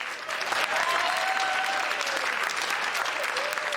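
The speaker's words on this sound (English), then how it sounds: "Round of applause for the magic box, do you mind?" Audience at a music stand-up comedy show applauding a keyboard's effects unit, a dense, steady round of clapping that fills the whole stretch at an even, loud level.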